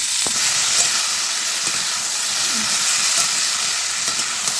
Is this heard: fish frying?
yes